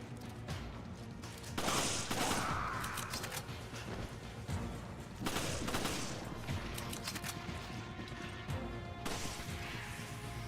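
Rapid bursts of gunfire and impact crashes in the video game Resident Evil, several dense volleys of shots at moderate loudness over a steady game background.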